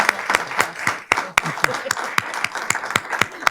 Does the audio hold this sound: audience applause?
yes